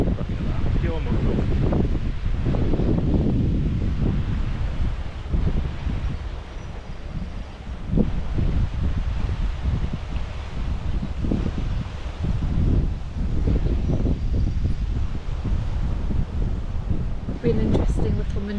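Strong wind buffets the microphone beside a canal lock on a narrowboat trip near Marsworth and Tring, a continuous loud roaring gust noise throughout with low rumbling surges and little pause.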